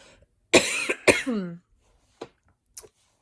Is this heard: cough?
yes